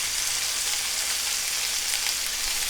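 Chicken, tomatoes and other vegetables in olive oil fry in a single pan, a dense, even, hissing sizzle that holds steady and fairly close throughout with no voices.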